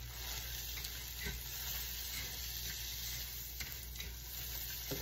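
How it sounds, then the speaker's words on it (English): Oats coated with honey and butter are stirred in a pan for homemade granola, giving a quiet, steady sizzle with faint scrapes and ticks of the spoon throughout. "And mostly I'm just going to keep stirring this."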